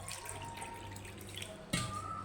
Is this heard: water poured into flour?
yes